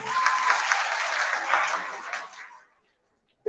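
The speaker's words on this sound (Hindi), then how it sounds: "जोरदार तालियां" Loud audience applause at a school quiz at Shri Guru Ram Rai Inter College, a dense steady clapping that fades out after about two and a half seconds, then a short burst of noise at the very end.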